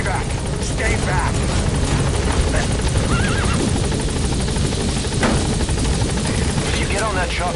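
Helicopter waiting at a landing zone in Metal Gear Solid V: loud, close, continuous rotor thudding and engine roar throughout, with voices and a brief whinny-like sound heard over it.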